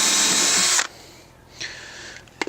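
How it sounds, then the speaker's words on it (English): A loud power drill whines steadily for under a second, then cuts off, followed by a quieter short burst and a sharp clack. "I'm drilling through into another piece of wood"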